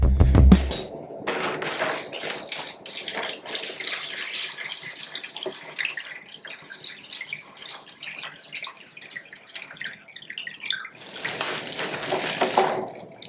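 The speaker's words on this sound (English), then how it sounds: "I'm just gonna come and put water in each of these humidity domes and then shake it around every once in a while" Water poured and sloshed inside plastic humidity domes set in a bathtub, a steady splashing and trickling wash that runs throughout, louder at the start and near the end.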